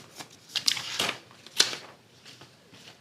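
Fabric strips for a quilt star block are cut into triangles with a few short, crisp slicing and rustling strokes close by, irregular bursts separated by quiet pauses.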